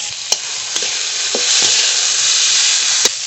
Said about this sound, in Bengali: মূল্যটা একটু ভাজা ভাজা করে নেব